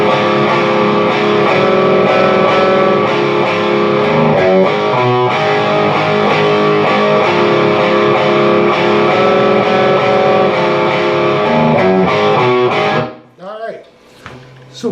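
A distorted electric guitar chugs out the rhythm part of a song, a steady rock-and-roll riff moving on the 5th and 4th strings. The loud, dense tone runs for about thirteen seconds before stopping abruptly, and a voice follows.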